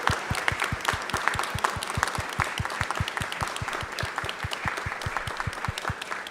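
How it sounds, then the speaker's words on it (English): New United States citizens receive applause and a standing ovation at a naturalization ceremony in Dallas. The sound is a broad, lively round of clapping with sharp, near-rhythmic nearby claps over the crowd's steady patter. "I would like to give you all a round of applause for taking this step in your lives and becoming United States citizens"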